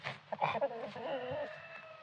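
A Plymouth Barred Rock rooster named Buddy crows once, fairly close and clear, with some background voice-like sound mixed in.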